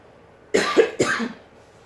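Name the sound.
cough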